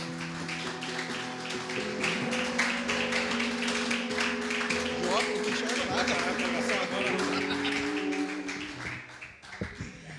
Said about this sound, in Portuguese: uma salva de palmas, irmãos